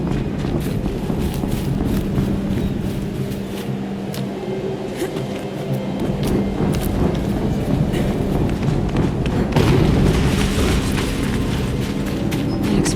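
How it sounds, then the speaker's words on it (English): Game explosions in Horizon Zero Dawn rumble as a dense, continuous low-heavy roar with rolling booms and clatter, loud and sustained throughout, swelling after the midpoint, with no voices. "An explosion."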